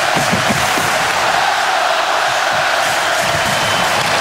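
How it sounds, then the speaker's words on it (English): A hockey arena crowd roars after a power-play playoff goal in a Red Wings-Ducks game, a loud sustained wall of cheering and shouting with whoops rising out of the din. "Listen to this crowd."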